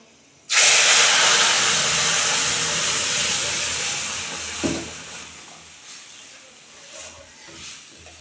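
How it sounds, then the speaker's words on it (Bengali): A sudden loud sizzle bursts out as masoor lentils hit hot oil with panch phoron, then a sustained hiss that slowly fades with a few soft clinks. "এখন আমি ডালটা ঢেলে দেবো"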